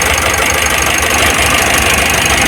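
A Mitsubishi Euro 4 engine runs steadily after an oil change, with oil circulating through a fresh filter. The loud, close, continuous idle has a dense mechanical clatter throughout, and no one speaks.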